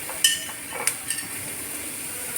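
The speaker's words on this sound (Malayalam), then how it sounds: "ഇനി നമുക്ക് പടവലങ്ങയും കൂടെ ഇട്ട്" Chopped snake gourd tossed into a pan of frying shallots gives a soft, continuous sizzle, broken by a few sharp clinks and scrapes from a utensil stirring the pan.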